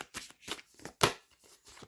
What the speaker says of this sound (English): let's just fucking shuffle it before I read the rest.